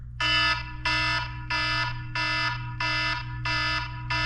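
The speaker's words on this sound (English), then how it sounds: "I was looking for an alarm and I came across this one" A harsh, buzzing electronic alarm clock tone pulses loudly in even on-off beeps, about seven bursts, alone and without speech.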